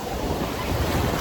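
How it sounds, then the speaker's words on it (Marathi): Sea waves break on Malvan beach in a continuous loud roar of surf, mixed with wind buffeting the microphone. "तुम्ही बघता इथे लाटा कशा येत आहात."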